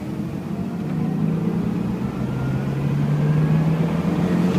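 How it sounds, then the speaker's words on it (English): A car engine pulls at full throttle in third gear, its droning note climbing steadily and growing louder over several seconds, heard from inside the vehicle. "Okay, third gear, full throttle."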